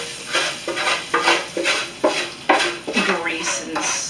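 Repeated scraping strokes of a utensil across a pan as extra grease is cleared out for Salisbury steak, about nine short rhythmic scrapes, close and fairly loud, with no talk.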